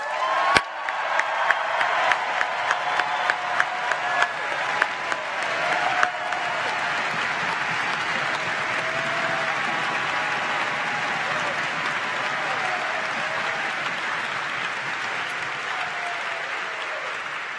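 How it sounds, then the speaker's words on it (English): Faculty and staff stand to a big ovation at Cal Poly's 2015 fall commencement: dense, sustained clapping from a large crowd fills the hall for the whole stretch, with a few whoops and scattered voices over it. "Give them a big applause."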